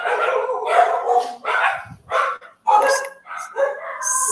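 Several household dogs bark in quick, loud, close bursts with short yips and gaps between them, with no one speaking over them.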